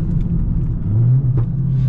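A 300-horsepower Volkswagen Jetta GLI accelerating hard through a corner: a close, steady low engine drone and rumble with a tone that climbs and swells midway, with no voices.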